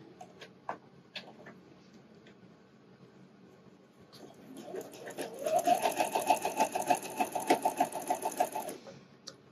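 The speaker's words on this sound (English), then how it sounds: "That just helps my machine get going instead of trying to start with everything right on the edge." A home sewing machine stitches fold-over elastic onto a wireless bra, starting with a few faint clicks and handling taps, then whirring into a steady, fairly quiet run of rapid stitching for several seconds.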